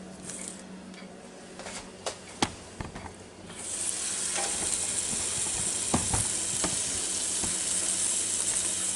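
Hamburger patties sizzle and spit steadily inside a Ninja Foodi Deluxe, the frying hiss swelling loud partway through and holding as a constant close crackle with occasional clicks, no voices.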